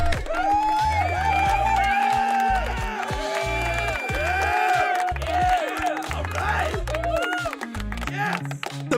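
A crowd cheers and claps steadily under a dense wash of music, with whoops rising over the sustained noise throughout.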